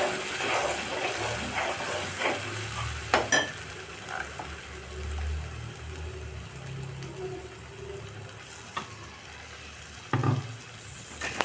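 A cashew and tomato paste fries in oil in a pan for a paneer curry, sizzling softly and steadily with occasional scraping stir clicks, close and fairly quiet.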